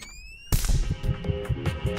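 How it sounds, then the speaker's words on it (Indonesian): Shotgun blast in the video game Buckshot Roulette: a single loud, booming shot that hits suddenly after a few high tones, then rolls into a dense, rumbling tail with echoing thuds. "Dia tembak aku habis nih"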